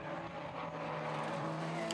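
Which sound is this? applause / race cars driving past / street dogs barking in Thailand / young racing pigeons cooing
race cars driving past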